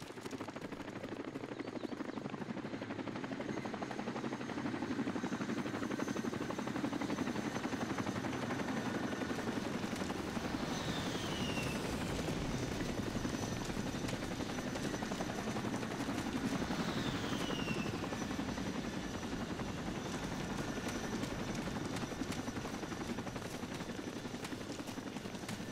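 Helicopter rotor and engine drone in the ArmA video game, a steady loud whir holding throughout with faint distant gunfire cracks mixed in.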